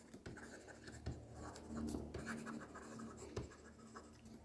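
Pen writing down figures for an accounting exercise, steady close scratching strokes on paper with small taps and pauses, over a faint background hum.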